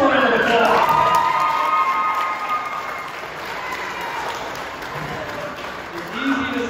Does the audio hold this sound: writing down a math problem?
no